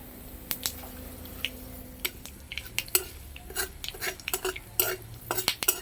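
Panch phoran and dried chilies crackle and pop in hot oil in a pan, with scattered sharp spits and clicks and a spoon scraping and stirring, building busier toward the end.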